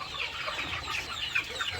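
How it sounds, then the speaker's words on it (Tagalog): Several heritage chickens and Leghorn hens clucking nearby in overlapping bursts, a busy, restless chatter with soft farmyard noise underneath. "so ito naman yung ating mga heritage chicken at saka mga leghorns yan o"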